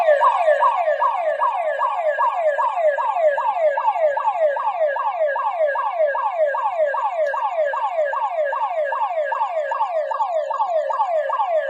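A security barbed wire alarm system wails in a loud, rapid, continuous siren, a fast repeating up-and-down warble that sounds close and steady throughout with nothing else over it.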